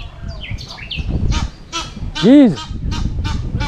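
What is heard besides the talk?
duck calling near fishing spot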